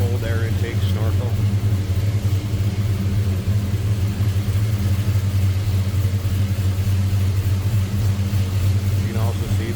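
A 1969 Chevrolet C10 with a 5.3 liter engine, headers and a mild cam idles loudly and steadily with a low, lumpy rumble as a person talks over it.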